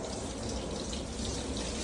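Tap water runs steadily into a sink during a surgical scrub-in, with the person holding a sponge; the broadband splashing stays constant and close throughout, with no talking.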